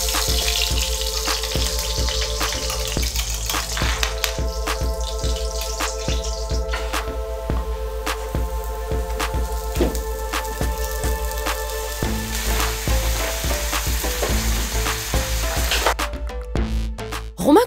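Meat cooking in a pan in its own rhubarb juice sizzles and fries steadily and fairly close, with scattered clinks and kitchen knocks throughout and no talking.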